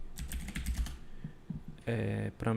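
Keystrokes on a computer keyboard as a command is typed, a quick run of clicks followed by a few scattered taps, with steady tonal computer sounds coming in near the end.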